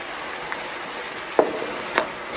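Tomatoes frying in an overcrowded frying pan give a soft continuous sizzle, broken by a few sharp clicks and clatters of a utensil against the pan.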